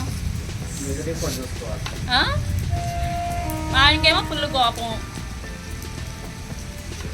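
Steady rain hisses in the background while a person speaks over it; the rainfall stays constant throughout.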